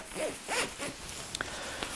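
Zipper on an Aegismax G1 sleeping bag being pulled closed in several quick rasping strokes, close and fairly loud, followed by a couple of small clicks from the plastic pull tab.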